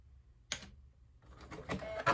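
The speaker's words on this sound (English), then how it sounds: "Okay, so I just ran a straight stitch" A sewing machine running a straight stitch while tacking down fabric for a towel wrap: a brief mechanical whir, a pause, then a louder burst of stitching with a clack at the end, quiet and close.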